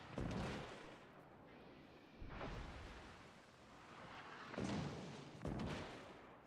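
Heavy battleship main guns fire in the video game World of Warships Legends, giving several booming, rumbling blasts in spaced bursts with ringing tails between them.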